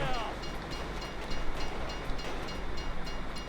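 A train rolls past in the GTA 5 video game, a steady broadband rumble with faint rhythmic rail clatter holding at fairly constant loudness for several seconds, with no talking over it.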